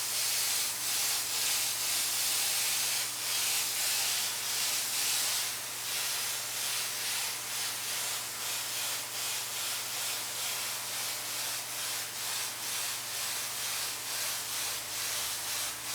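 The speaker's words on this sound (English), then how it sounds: "So lightly spray around it." A steady, continuous hiss of an airbrush spraying paint, faint hum underneath, with slight pulsing as the spray is passed back and forth.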